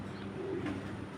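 A pair of black checker racing pigeons cooing softly, a faint low murmur close by with steady background noise.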